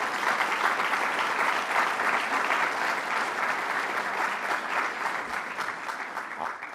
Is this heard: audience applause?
yes